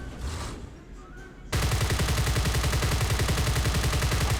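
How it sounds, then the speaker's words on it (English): Twin 30mm HSS 831L cannons on the British Falcon SPA in War Thunder open up after a quieter lead-in, a loud, rapid, continuous burst of heavy automatic fire. "Just listen to these guns."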